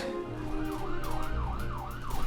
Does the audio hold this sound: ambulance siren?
yes